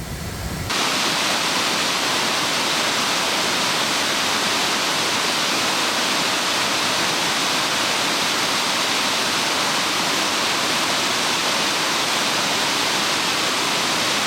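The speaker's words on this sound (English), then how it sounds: "But what a gorgeous waterfall." Waterfall at Viaduct Park in Cuyahoga Valley National Park, a steady, dense roar of falling water that starts abruptly and holds loud and constant throughout, with no voices.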